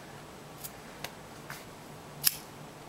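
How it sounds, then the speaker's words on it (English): Scissors snip loose paracord ends on a two-color cobra weave bracelet with a buckle, making four short, quiet, crisp clicks spaced about half a second apart, the last one a little louder. "Cut off your loose ends."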